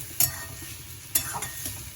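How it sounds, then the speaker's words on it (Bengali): A utensil scrapes and stirs through water spinach greens with sugar in a pan in a few quick strokes, with soft sizzling underneath. "চিনি দিয়ে একটু নেড়ে নেব"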